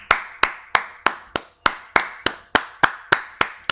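A single person claps their hands, about a dozen sharp, evenly spaced claps at a steady moderate pace, close and clear, with no other sound.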